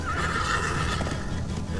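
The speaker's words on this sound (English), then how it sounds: "Time to take a ride on a horse." A horse in the video game Minecraft Story Mode neighs and whinnies steadily at moderate loudness, with faint hoof clip-clop underneath.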